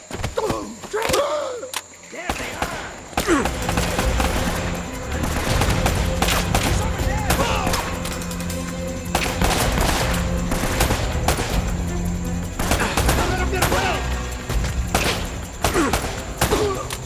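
Shots from the video game Uncharted: Drake's Fortune ring out in dense, repeated bursts and rapid volleys, loud and close, along with a few thuds and bangs.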